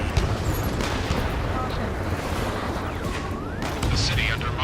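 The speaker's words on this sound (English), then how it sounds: "Gunfire and the roar of jets echoing through the streets" Dense, continuous rumble of distant gunfire and explosions in a city in Ace Combat 7: Skies Unknown, with a jet-like whine sweeping through near the end, loud and steady throughout.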